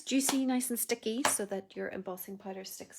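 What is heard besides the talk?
No everyday noise stands out behind the speech.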